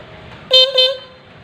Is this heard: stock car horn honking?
yes